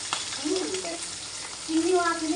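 Hilsa fish frying in oil: steady sizzle with crackling, close by, accompanied by faint tonal clinks or scraping from utensils; no talking.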